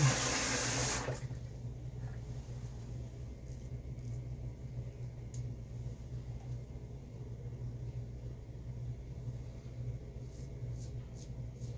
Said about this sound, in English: I'm gonna rinse real quick.